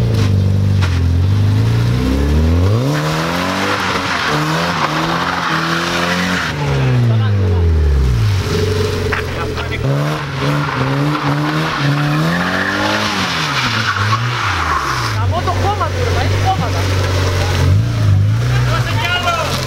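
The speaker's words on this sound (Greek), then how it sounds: "Κάτσε, έρχεται αμάξι, περίμενε." A passing car on a road during a May Day outing, its engine note sweeping up and down with tyre noise under continuous excited chatter.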